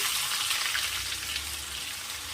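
Finely chopped onion frying with cumin in hot oil for jhunka, a soft continuous sizzle and hiss heard close and alone.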